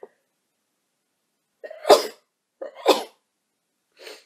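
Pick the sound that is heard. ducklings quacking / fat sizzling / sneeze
sneeze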